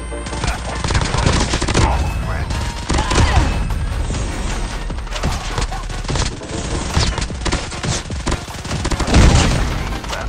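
Rapid bursts of automatic gunfire and scattered single shots in the mobile shooter game Call of Duty Mobile battle royale, loud and dense throughout with a few heavier booms.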